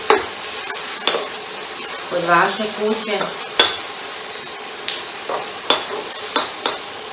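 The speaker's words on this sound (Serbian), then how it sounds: "U masnoću dodamo luk." Onion frying in hot fat for sarma gives a steady sizzle, broken by repeated sharp clatters of a utensil against the pan, while a person speaks briefly in the middle.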